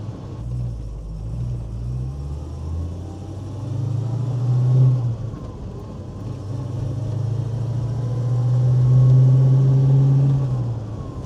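A 1970 Ford Mustang Mach 1 with a 351 Cleveland V8 and 4-speed manual, heard from inside while driving: a deep steady engine rumble that swells under acceleration and drops with gear changes.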